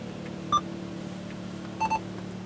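A Sony in-dash AV navigation unit gives hands-free dialing beeps: one clear electronic tone, then a quick double beep a moment later, over a quiet steady hum inside a car.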